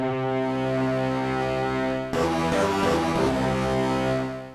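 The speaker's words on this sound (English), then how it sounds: "Now we have a much edgier cello sound." Edgy synthesized cello tone from a Sonicware Liven Evoke blended with wavetable, a sustained buzzy note that shifts into a brighter, grittier timbre midway, heard alone.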